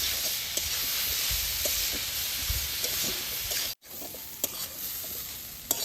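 Steady sizzle of young jackfruit frying in a hot pan, with occasional stirring scrapes and clinks; close and constant, no voices.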